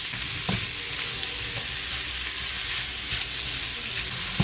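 Ground pork sautés in oil in a pan with a loud, continuous close-up sizzle, broken by occasional faint stirring scrapes, and no voices.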